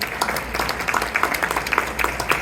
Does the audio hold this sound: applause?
yes